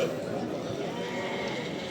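Sheep bleating at the Ganja sheep market, faint bleats amid a crowded market murmur with people talking throughout.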